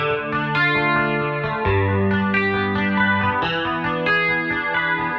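Electric guitar from a Kramer guitar track played through a Waves plugin chain with heavy reverb and delay, sustained chords ringing with echoing tails, loud and continuous with no talking.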